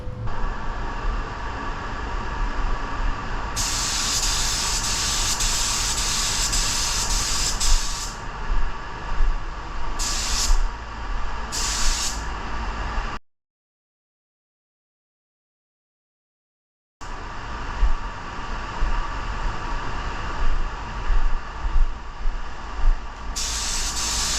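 Spray gun applying coats of copper metal flake paint over a bubble gum purple base on sample panels for a 1936 Ford, a loud steady hiss in long passes that breaks off into a few seconds of silence, then resumes.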